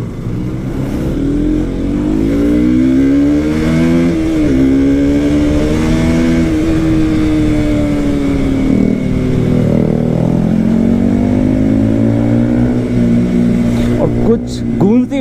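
A Yamaha MT-15 motorcycle engine revving hard at full throttle, loud and close, its pitch rising and falling in long sweeps over about fifteen seconds, with wind rush and a voice talking in the background.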